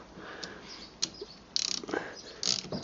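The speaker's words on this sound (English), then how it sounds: "take out the 4 bolts holding the two halves of the caliper together" Ratchet clicks and small metallic mechanism sounds while removing the four bolts that hold the two caliper halves together on the rear brakes of a 1990 Mercedes-Benz W124 300CE coupe, with several short bursts of clicking at close range.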